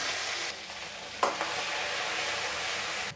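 Ground garlic and green chillies hit hot oil with cumin seeds and curry leaves, giving a steady close hiss with one sharp stir or clink near the middle; no talking.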